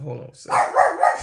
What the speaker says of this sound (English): Dog was going off.